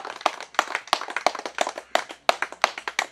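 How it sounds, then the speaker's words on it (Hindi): Villagers in Akhadiya clap together in a crowd, producing a steady run of sharp, close, fairly loud claps with no talking. "ये अखड़िया गांव के लोग ताली बजा रहे हैं"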